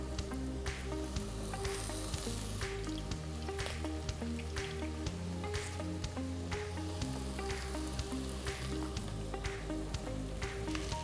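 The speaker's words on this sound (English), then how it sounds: "Let's stir fry." Baby clams, squeezed dry, stir frying for a dry roasted curry in a pan, with a steady close sizzle, frequent sharp crackles and occasional stirring scrapes.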